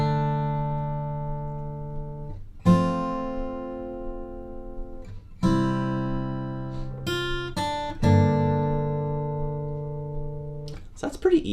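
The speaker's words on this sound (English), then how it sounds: "we can add some finger picking to it," Fingerpicked acoustic guitar playing the chords of a song, each chord plucked note by note in a steady pattern with a few ringing strums, close and clear with no talking.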